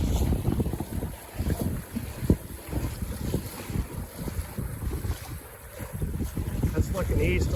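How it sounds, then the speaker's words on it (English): Wind and water rush around a Buccaneer 18 sailboat sailing on the Columbia River, a steady broadband whoosh with microphone wind buffeting and lapping waves, continuous and close. "I like to keep sailing when the wind comes up"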